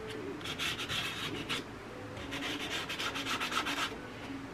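Hand sanding along the edges of a wooden bread board to distress them, a steady run of close rhythmic rubbing strokes in two bursts with a brief pause between.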